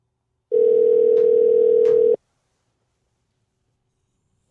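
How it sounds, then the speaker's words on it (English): A single telephone ring tone sounds for about a second and a half, loud and steady with a couple of faint clicks, then cuts to silence while the call goes unanswered. "Feels weird that no one answers the phone."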